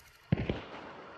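Distant gunshot in a video game: one faint, muffled crack followed quickly by a softer second report against quiet background noise.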